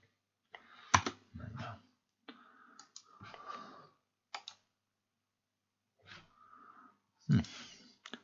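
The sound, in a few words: computer mouse right-click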